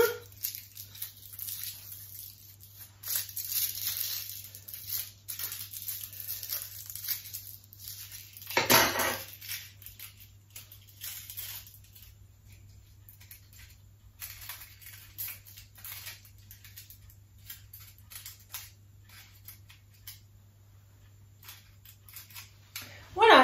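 Crinkling and rustling of aluminium foil being handled and pressed into a small chimney for a galette, in irregular bursts over a low steady hum.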